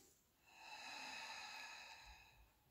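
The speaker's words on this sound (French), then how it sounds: "on expire" One long, steady exhale pushed out through the mouth during an abdominal exercise, close and soft, swelling and then fading over a couple of seconds with no talking.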